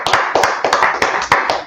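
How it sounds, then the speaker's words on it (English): Sharp, rhythmic hand claps, about nine or ten close and loud in a steady beat, from a church brotherhood Bible class clapping for the Lord. "let's clap it up for the Lord"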